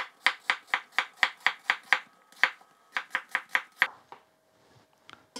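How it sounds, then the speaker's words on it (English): A knife chops onions for onion bhaji on a cutting board in a fast, even run of crisp thuds, pausing briefly, resuming, then trailing into quiet with a faint scrape. "So that's 2 onions chopped like that."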